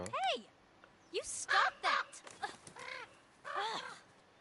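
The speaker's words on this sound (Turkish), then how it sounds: "O karga bizi bizi döver bu arada" Crow cawing in The Quarry video game, several harsh rising-falling caws in short bursts, fairly close and loud, with people talking over and between the calls.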